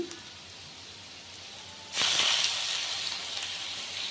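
Cumin seeds and bay leaf hit hot oil in a Bengali cabbage dish: a quiet lull gives way to a sudden, bright sizzle that then keeps hissing steadily, close and fairly loud, with no talking.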